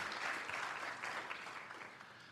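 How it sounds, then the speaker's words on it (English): Steady clapping from a crowd, sustained and fairly faint as if heard from a distance, tapering off slightly at the end. "So another big applause to Javier and David"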